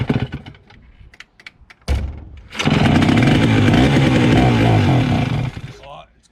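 A Pioneer 650 chainsaw being revived from dead sputters into life after a sharp pull, then roars loud and close for several seconds before cutting out, with a few quiet voices in the lead-up.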